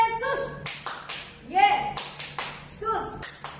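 Rhythmic hand claps in a Sunday school praise routine for Jesus come in short, evenly spaced bursts of two or three, crisp and close, alternating with a leader's chanting voice.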